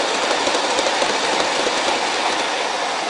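Aristo RS3 model locomotive, refitted with BB motorblocks, pulling lowered hoppers with body-mount couplers along a track, giving a steady, continuous rolling rumble with faint wheel clatter throughout.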